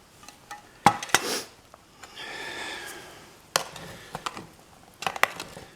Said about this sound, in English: Give it another stir just to get it mixed up.